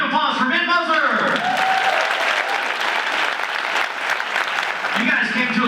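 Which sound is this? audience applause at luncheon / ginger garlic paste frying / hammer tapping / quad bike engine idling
audience applause at luncheon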